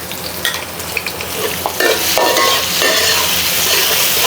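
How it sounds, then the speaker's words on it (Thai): Chili and garlic hit hot oil in a wok and sizzle loudly as they are stirred, with a few scraping strokes of a utensil against the pan, close and without speech. "น้ำมันร้อนแล้วนะคะ แล้วก็ใส่พริก พริกกับกระเทียมที่เราปั่นเมื่อกี้ลงไปเลยค่ะ"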